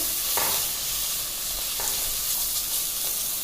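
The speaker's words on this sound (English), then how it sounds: "it's time to add the ginger garlic paste. Stir it immediately, else it can catch at the bottom." Ginger garlic paste sizzling with onions in a pan for mutton kheema fry, a close, steady hissing crackle with a few brief scraping stirs of a spoon.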